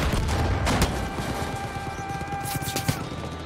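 Gunfire in the video game Far Cry 5, a dense burst of shots near the start and scattered sharp cracks later over a steady battle din.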